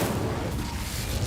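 An Incendio fire spell cast in the video game Hogwarts Legacy makes a dense, rumbling roar of flame that holds steady and loud for a brief moment.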